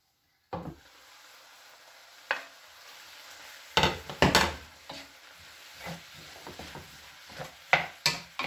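Sweet and sour pork in a covered pan, heard as a low steady sizzle broken by several sharp clatters and knocks of the lid and utensils against the pan, close by and without speech.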